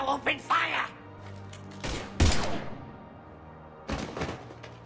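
Gunfire in Mass Effect 3, several sharp bursts of shots and thuds scattered across a few seconds, separated by quieter gaps with game sounds between them.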